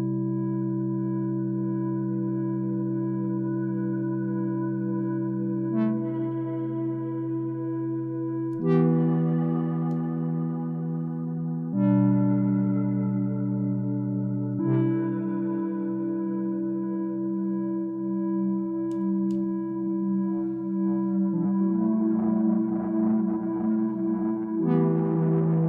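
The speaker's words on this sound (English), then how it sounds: "And let's bring in the reverb." Sustained synth chords run through a Strymon Nightsky reverb pedal, swelling into long, shimmering washes that change every few seconds, growing grainier and more textured near the end, with no talking.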